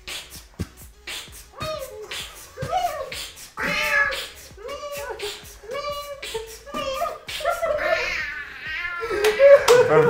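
A beatboxer's voice imitates a cat meowing, giving a run of rhythmic, whiny meow-like calls with percussive mouth clicks and pops between them, close and fairly loud.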